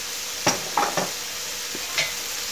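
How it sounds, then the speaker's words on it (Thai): Shrimp and holy basil being stir-fried in a pan for pad kra pao: a few quick scraping stirs and soft clatters over a faint steady sizzle, close by and brief, with no talking. "ผัดเลยครับให้เข้ากันเลย"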